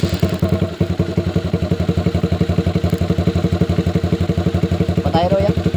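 A motorcycle engine runs close by at a steady idle, its rapid even chugging pulsing throughout, with no talk over it.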